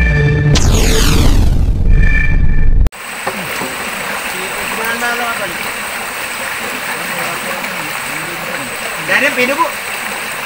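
Strong water pours down into a fish trap for crabs and fish, a steady rushing splash close by; a loud clatter opens, and someone speaks briefly over the flow.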